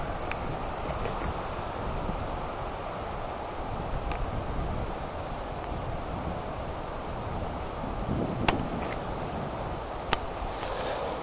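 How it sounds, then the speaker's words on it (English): Strong wind roars steadily through woods, buffeting the microphone, with a couple of faint clicks near the end and no voices. "Yeah, it's getting really windy now."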